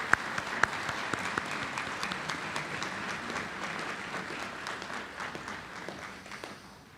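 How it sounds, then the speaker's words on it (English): Graduation ceremony crowd at Iowa Wesleyan University applauding the choir, sustained dense clapping from a large audience, steady and fairly loud throughout before slowly tapering toward the end. "A round of applause for our prima voces."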